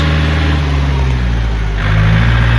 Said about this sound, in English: Thank God we got a tractor.